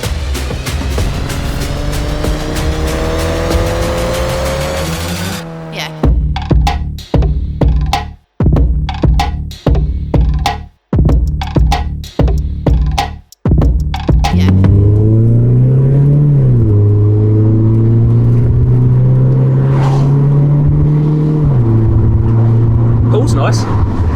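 1990 Mazda MX-5 Mk1 driving, engine note rising then cutting through choppy, buffeted stretches, followed by a strong steady climb in pitch as the car accelerates; loud and close throughout.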